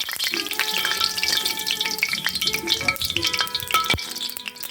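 Duck meat sizzling as it goes into hot oil for Uzbek pilaf, a steady, busy crackle with stirring clatter and a sharp utensil knock near the end, close and fairly loud.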